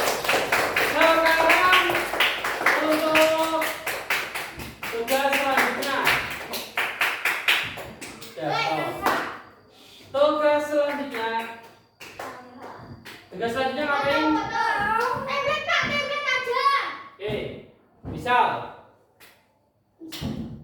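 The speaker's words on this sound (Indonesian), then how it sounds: "Tepuk tangan buat kalian." Students in a pencak silat physical education class clap their hands in a rapid, steady burst of crisp claps near the start, followed by a teacher and children talking with scattered taps and shuffles.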